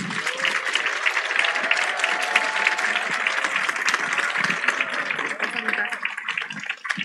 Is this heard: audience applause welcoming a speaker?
yes